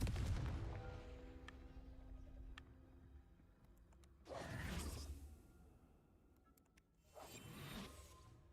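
In the Hogwarts Legacy video game, the Confringo spell is cast, giving two faint whooshing bursts a few seconds apart over a low rumbling, mechanical game background.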